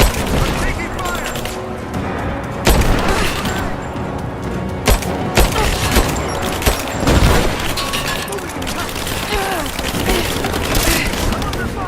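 Heavy gunfire rattles through a firefight in the Rise of the Tomb Raider video game, with bursts of automatic fire and sharp booming shots over continuous combat noise while voices shout.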